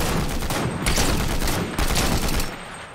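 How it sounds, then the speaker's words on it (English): Rapid gunfire in Fortnite aimed at a tree, a loud, dense burst that keeps going for several seconds with brief dips. "Shoot that tree down, yep."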